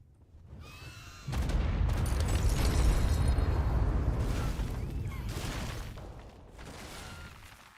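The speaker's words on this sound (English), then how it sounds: "Carpet bomb away." Carpet bombing in Ark Survival Ascended sets off a sustained, loud rumble of overlapping explosions that swells after a quiet start, then slowly fades with scattered booms.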